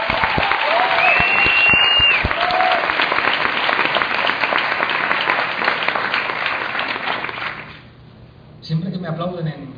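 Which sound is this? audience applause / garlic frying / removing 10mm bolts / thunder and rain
audience applause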